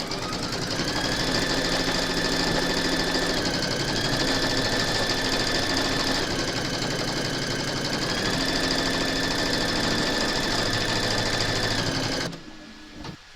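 An embroidery machine stitches an in-the-hoop snowflake design through fabric and batting, a steady, loud mechanical whir running continuously before stopping abruptly near the end.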